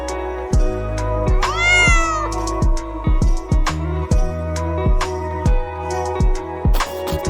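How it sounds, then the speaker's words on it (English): A cat meows, with one drawn-out, rising meow standing out early among several shorter sounds, close and clear over a steady musical background. "C for cat."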